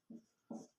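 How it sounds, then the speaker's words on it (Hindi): Numbers being written by hand during a class 5 maths lesson, heard as three short, soft scratching strokes spaced evenly apart in a quiet room. "तो लिख देता हूं मैं आपके सामने"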